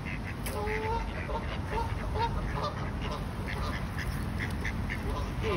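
Ducks or geese being fed outdoors quack and honk in a busy chorus, with faint talk underneath.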